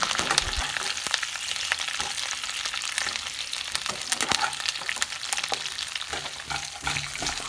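Fried chicken pieces tossed and stir-mixed in a hot pan for chicken 65, a continuous crackling sizzle with frequent scraping and clattering of the spatula, close and loud.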